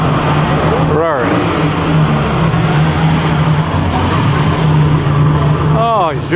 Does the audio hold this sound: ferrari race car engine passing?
yes